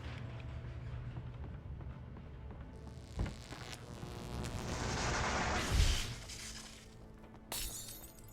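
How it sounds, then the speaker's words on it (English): Flashbang grenades going off in the PC game Alan Wake: a sharp bang followed by a long bright hissing burst and ringing, then another crackling flash, loud and close over a low ambient drone, without speech. "no way the flashbang grenades were standard power company equipment"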